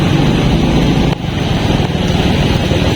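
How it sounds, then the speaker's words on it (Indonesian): Congested Saturday street traffic in Sunter, Jakarta, sounds as a loud, steady roar of engines and tyres close by, with a brief dip partway through before the dense rumble continues. "Ya, lumayan macet sih di hari ini."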